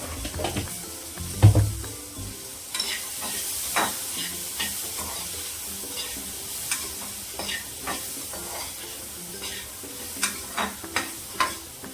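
Spices and chili tempering in a pan, a steady low sizzle close by, broken by a heavy knock early on and then by repeated sharp clinks and scrapes of a spoon against the metal.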